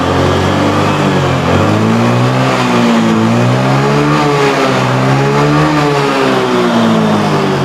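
A Yamaha Xeon scooter engine with an overheating problem, revved up and down in waves over a steady idle, close and very loud throughout.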